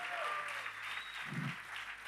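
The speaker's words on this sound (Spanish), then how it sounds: "Vamos, dale un aplauso al Señor." Applause from a church congregation during a sermon, a short burst of steady clapping with a faint whistle-like tone and a low thump partway through.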